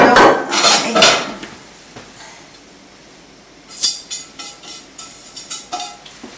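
A frying pan is handled on a stove while olive oil is added, giving a few clinks and knocks of metal against the burner, near and fairly loud, then quieter clatter.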